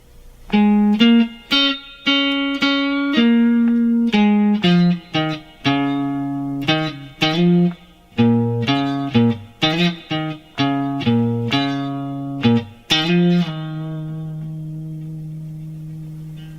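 A bright, clean guitar plays the melody of a song note by note, steady and upfront, ending on a long sustained note.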